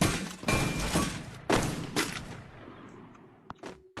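Sniper gunfire in a video game, with a series of loud, close rifle shots in quick succession followed by fainter, sparser pops and thumps.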